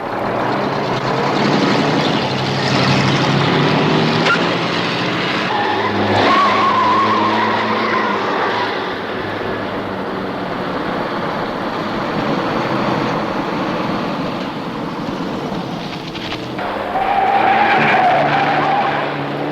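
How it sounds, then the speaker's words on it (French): A 1970s action-film car chase: an engine roars steadily throughout while tires skid and squeal in two sharp bursts, loud and continuous, with no voices. "on va suivre la bagnole de Fred"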